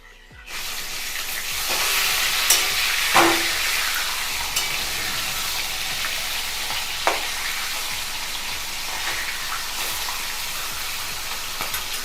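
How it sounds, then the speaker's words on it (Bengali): Fish heads sizzling in hot oil over medium heat, a steady loud crackling hiss with occasional sharp pops and spits, no voices over it. "তেল গরম হয়ে গেছে, এবার আমি মুড়োগুলো দিয়ে দিলাম।"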